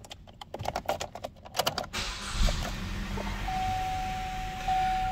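A 2015 Chevrolet Cruze 1LT with 119k miles cranks and starts: key and interior clicks come first, then the engine catches and settles into a steady, close idle hum with a faint whine.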